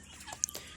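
Laying hens cluck softly in a coop, giving a couple of brief, fairly faint calls against low background noise.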